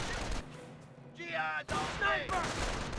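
Rifle and sniper fire from a Company of Heroes battle: repeated sharp gunshots and bursts mixed with game effects and a whining tone, with a voice speaking over parts of it.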